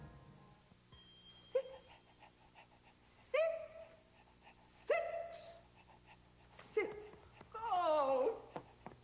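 A dog in a television commercial gives a handful of short whines and yelps spaced a second or two apart, ending in a longer whimpering cry, fairly close against a quiet background with no talk.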